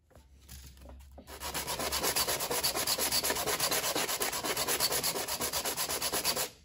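A wooden hollow box is sanded with steady, rhythmic back-and-forth strokes that begin after a quiet second and continue loud and close, gritty and scratchy, until they stop near the end.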